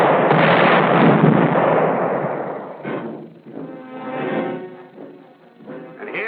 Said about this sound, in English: Soften them up with a barrage, then attack with tanks and infantry